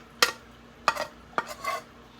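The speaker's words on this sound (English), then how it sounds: "So here we are, just going ahead and stirring it" Grated soap melting in a pan over medium heat on a stove is stirred, giving four or five brief scraping strokes spaced about half a second apart, close and fairly quiet.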